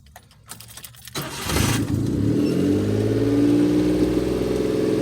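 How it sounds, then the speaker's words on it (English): A few metallic clicks and a crank, then the small engine of a 1993 Suzuki Carry kei truck catches and settles into a loud, high, steady rev that holds. "when this first starts up, it takes a few minutes to rev real high"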